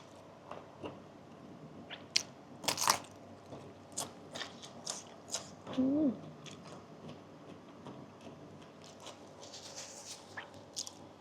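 Crunchy chewing on shrimp during a home-cooked seafood meal: close, scattered crisp bites and crackles with quiet gaps between them and a short squeaky note midway. No one speaks.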